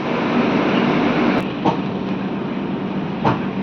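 The Sirpur Kagaznagar–Secunderabad SF Express running on past Peddapalli Junction, a loud continuous roar of wheels and carriages with a few sharp clacks of the track breaking through.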